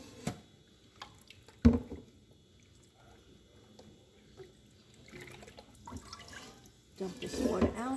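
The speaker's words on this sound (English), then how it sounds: "You run some water over it to wash all the scum and give the chicken a little bath." Tap water runs over raw chicken in a pot as it is rinsed for Vietnamese chicken noodle soup (phở gà), heard as intermittent splashes and trickles with a louder gush near the end, alongside speech.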